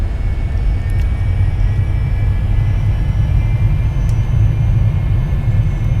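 A Cessna Citation's jet engines at full power in a flight simulator give a loud, steady roar and rumble from start to finish, with no talking.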